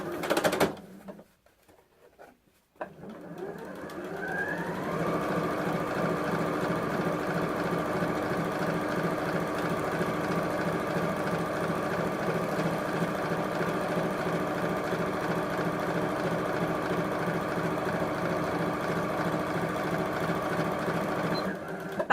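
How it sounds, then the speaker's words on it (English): A sewing machine stitches curvy lined purse fabric in one long, even, continuous run after a brief quiet handling moment, its rapid needle chatter close and steady throughout. "we're going to just leave the edge of the foot against the edge of the fabric"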